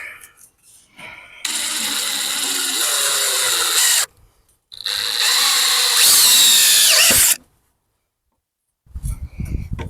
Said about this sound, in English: just drive 2 of these screws into each end here to fasten everything together